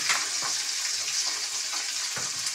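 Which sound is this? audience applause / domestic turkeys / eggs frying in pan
eggs frying in pan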